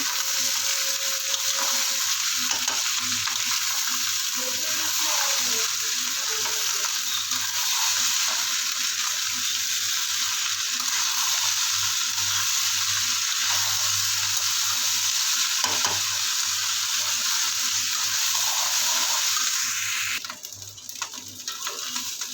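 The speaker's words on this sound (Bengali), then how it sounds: "চালটাকে ভালো করে ভেজে নেবে এবার।" Rice frying with spices in hot oil and ghee in a wok gives a steady, close, continuous sizzle with faint stirring scrapes. No one speaks.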